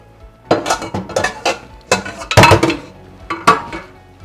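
Glass jars of homemade fig jelly getting lids fitted, with a run of close, sharp metallic clinks and clatters in irregular bursts, loudest in a cluster midway, with no talking.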